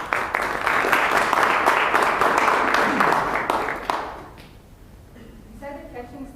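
Applause at a Toastmasters public speaking meeting, a mass of clapping for about four seconds that fades out, followed by a voice speaking.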